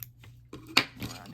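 A single crisp snip of scissors cutting through crochet yarn, close and brief, following a couple of faint handling rustles.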